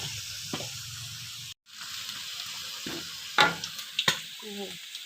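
Holy basil stir-fry tossed in a pan with a splash of dark seasoning, giving a steady hiss broken by a brief silence, then sharp scrapes and clatters of the spatula near the end.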